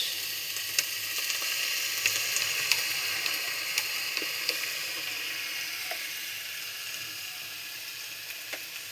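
Chili sauce hits a pan of fried chicken pakora and sizzles steadily, a soft, even frying hiss with faint scattered ticks and pops, fairly quiet throughout.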